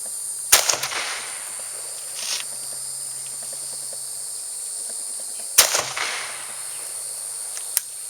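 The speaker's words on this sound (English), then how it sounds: "It's going to be just some kind of slow shooting just to get on paper." Two sharp, loud rifle reports from an SKS carbine at an outdoor DNR shooting range, spaced about five seconds apart, each with a short decaying tail over quiet background and a faint click near the end.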